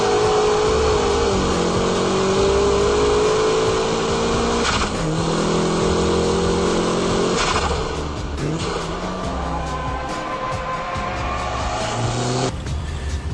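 A manual car's engine, driven for drifting, revs in rising and falling sweeps as it is blipped through a heel-toe downshift while braking. The engine is loud and close, with short dips and surges between gear changes and no talking.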